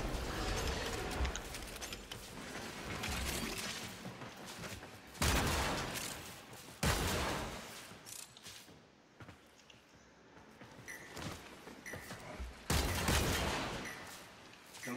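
Rapid bursts of gunfire from the video game Warframe crackle in repeated volleys, with sharp louder shots punctuating dense, continuous weapon fire and mechanical clatter.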